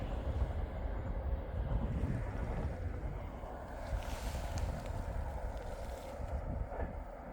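A cargo train rolls past a small rural station near Auli, Norway, a steady, broad low rumble with wind noise that holds throughout without letup.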